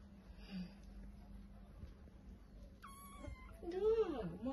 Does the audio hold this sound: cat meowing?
yes